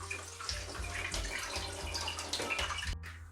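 Tap water runs steadily into a kitchen sink while beans for Ghanaian red red stew are rinsed, a continuous close splashing wash with no talk over it.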